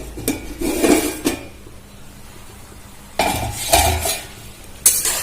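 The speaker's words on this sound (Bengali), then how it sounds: "আমি মাঝে একবার খুলে নাড়াচাড়া করে নেব।" A pan of vegetable fry cooking over a medium gas flame is uncovered and stirred, giving close clattering bursts of lid and utensil against metal, separated by a quieter stretch of faint background cooking, with no voices.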